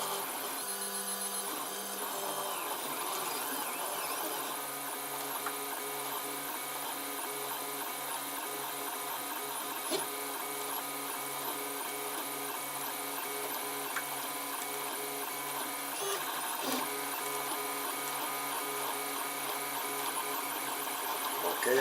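A 3D printer fitted with an E3D clone 0.4 mm nozzle lays blue PLA onto a blue painted bed, giving a steady, continuous mechanical whirr of stepper motors with shifting tonal whines, close and alone throughout.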